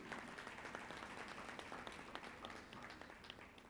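Audience applause for a panelist at a diaspora conference, a brief crackle of many hands clapping at once, steady and very faint.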